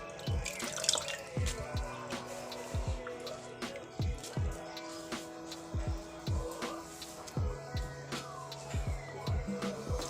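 Water drips and splashes steadily while gongura leaves and toor dal are washed in a pressure cooker, with many small close-up plops and trickles in an irregular rhythm.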